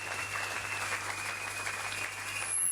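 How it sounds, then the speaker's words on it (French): A church congregation at a Sunday service applauds for Jesus, steady moderate clapping filling the room from start to finish, with a low hum underneath. "Est-ce qu'on peut acclamer Jésus?"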